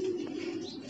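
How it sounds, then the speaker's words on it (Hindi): A single soft, low coo from a pigeon perched nearby with a few others, brief and close, with no talking. "बाकी ये बैठ गए दो कबूतर इधर और एक कबूतर यहाँ पे"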